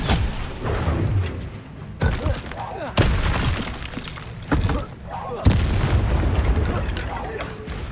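Confringo spell blasts in Hogwarts Legacy, a string of sharp booming impacts arriving every second or so amid combat clatter, loud and close, with a voice speaking over them.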